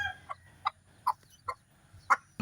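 A mother hen clucks about six times in soft, evenly spaced calls. She is close, fairly quiet and heard alone.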